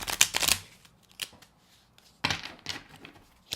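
Tarot cards are shuffled in two crisp riffling bursts, one at the start and one a little after midway, with soft card handling and quiet pauses between them.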